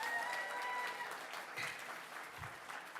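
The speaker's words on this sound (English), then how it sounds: "Give a round of applause to yourselves for being so fancy." Audience applause at a live convention mainstage circus-variety show, a steady wash of clapping from a crowd filling the whole stretch without pause.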